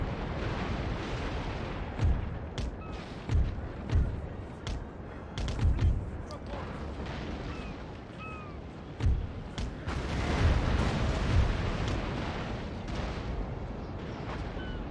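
Cannon fire in a naval battle in Napoleon: Total War, with repeated heavy booms and sharp cracks at irregular intervals over a continuous rumbling battle din, some shots near and loud, others distant.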